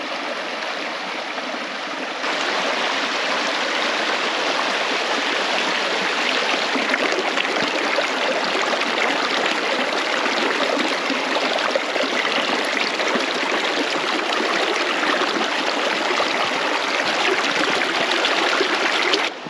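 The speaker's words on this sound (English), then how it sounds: "The creek is just right down there." Atlantic Creek rushing below a backcountry campsite in Glacier National Park, a steady broadband flow of water that swells slightly after the first couple of seconds and continues evenly, close and unbroken, with no voices.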